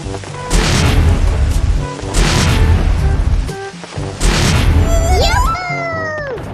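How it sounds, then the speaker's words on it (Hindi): Firecracker bombs bursting close by in three loud booms with rumbling tails, followed by a rising whistling firework. "चलो अब सब लोग बम फोड़ेंगे।"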